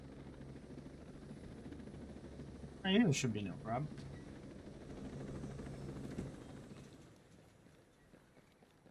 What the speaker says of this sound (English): It's an itty-bitty helicopter.